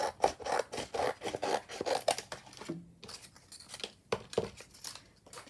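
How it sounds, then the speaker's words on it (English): Close, rhythmic rasping strokes of a blade slicing through collage masterboard paper, a steady run of cuts broken by a short pause, then a few more strokes, with no talking. "let me just cut this off first"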